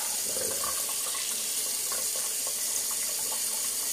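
Water pours steadily from a tap for rinsing, a constant close hiss and splash without pause.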